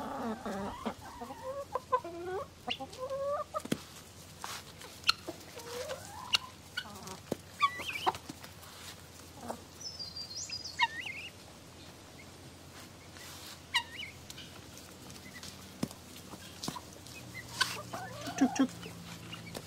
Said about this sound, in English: now he is going to feed it to some very hungry chickens